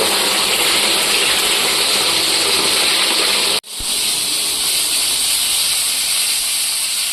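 Fish frying in oil on a hot tawa, a loud continuous sizzle and hiss that briefly drops out for a moment and then resumes just as strongly, with no one talking.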